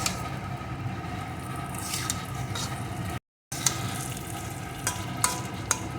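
Moong dal frying in a pan for vegetarian khichdi, a continuous soft sizzle with scraping, stirring clicks and occasional sharper taps close by, briefly cut to silence midway.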